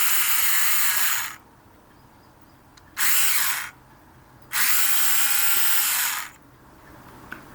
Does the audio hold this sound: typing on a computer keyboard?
no